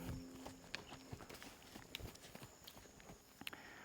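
A wild horse's hooves clip-clop faintly and at a distance as it runs off, the uneven footfalls sounding over steady outdoor background noise.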